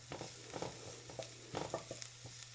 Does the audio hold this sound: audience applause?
no